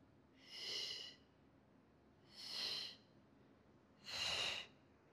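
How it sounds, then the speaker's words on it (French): Three slow, even breaths drawn in and out through the nose during an exercise class, close and soft, each a long airy hiss separated by quiet pauses. "On inspire, on expire."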